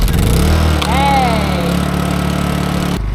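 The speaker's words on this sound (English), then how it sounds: "Generator started." A boat's generator starts and settles into a steady, loud running hum, with a brief rising whine near the start, then cuts off at the end.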